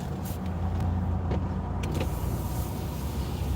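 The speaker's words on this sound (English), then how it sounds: "it's nice to hear the truck just start right up" A truck engine runs steadily and close by, a low continuous rumble that holds throughout at an even level, with no talk over it.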